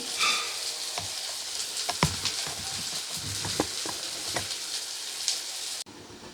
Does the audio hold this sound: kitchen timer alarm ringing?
no